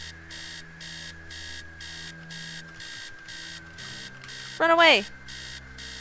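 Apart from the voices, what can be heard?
alarm clock blaring in video game Stories Untold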